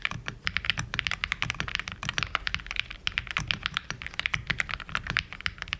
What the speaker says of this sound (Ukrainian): це буде чутно навіть по звуку, наскільки приємно та м'яко натискаються ці клавіші